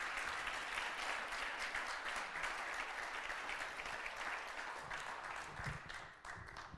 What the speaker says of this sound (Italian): rivolgerei ancora prima che dica cose un applauso di benvenuto